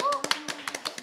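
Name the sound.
audience clapping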